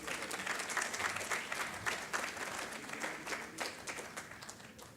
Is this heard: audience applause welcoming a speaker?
yes